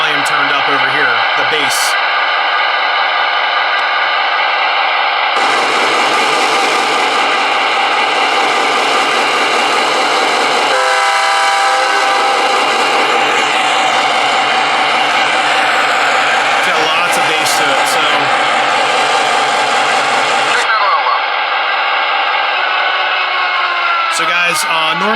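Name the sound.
O scale model diesel locomotive horn via Bluetooth sound module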